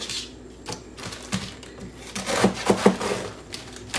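A knife chopping food on a cutting board during kitchen meal prep, a handful of irregular cuts and taps with some handling noise, close and clear.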